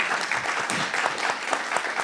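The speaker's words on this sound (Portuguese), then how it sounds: "Uma salva de palmas para o Luiz Rufato." Audience applause at a literary event at Sesc Vila Mariana honoring the writer Luiz Ruffato: a dense, steady crowd clapping that stays loud and even throughout, with no talk over it.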